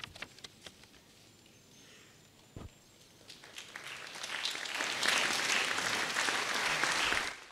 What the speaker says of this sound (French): sous les applaudissements des fidèles, oui.